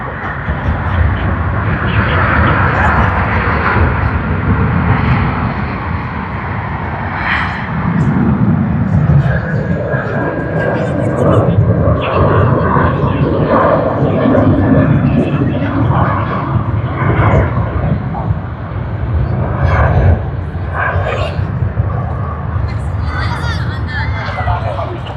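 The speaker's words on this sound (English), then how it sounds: "Now let us have a look at China Southern on their A330." A China Southern Airbus A330 at Sydney Airport, a loud continuous engine roar rising and falling outdoors, with a person talking over it.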